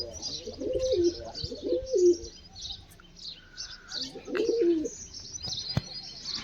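Pet pigeons cooing in a loft, several rolling throaty coos in short bursts against faint outdoor chirps and a brief flutter, fairly close.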